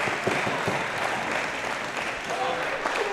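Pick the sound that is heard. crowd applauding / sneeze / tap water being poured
crowd applauding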